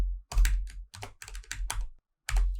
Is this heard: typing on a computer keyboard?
yes